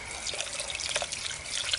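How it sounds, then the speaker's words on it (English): Water poured into a pumpkin used as a vase, a steady, close trickle and splash that continues throughout with slight fluctuations. "Fill these with water"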